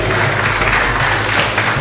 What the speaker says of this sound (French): Encore une fois, vos applaudissements pour Philippe Bourdon.